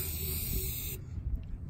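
Short hiss of an aerosol spray can used to paint headbands, a steady bright spray lasting about a second, then cutting off into a quiet room.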